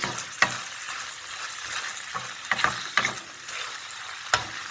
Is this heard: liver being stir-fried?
yes